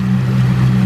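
A motorboat engine runs on clear blue water off Rhodes, giving a steady, loud, close drone with a low hum and no talk.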